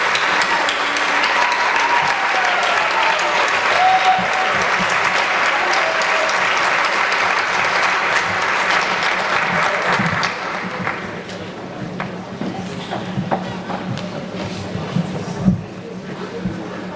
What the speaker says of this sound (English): applaud their efforts